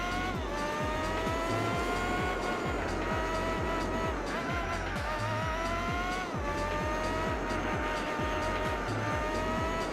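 Formula GT race car in Gran Turismo 4 screams at steady high revs with rising and falling engine harmonics, a loud continuous drone through the whole stretch with gear shifts and faint rhythmic thumps beneath.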